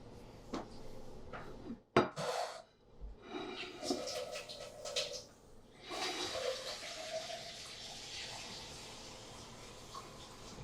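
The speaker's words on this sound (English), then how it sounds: "so I am filling the vase with water" Water runs into a vase during a full moon protection spell ritual, with splashing and clinking of the vessel at first, then a steady rushing pour that continues to the end.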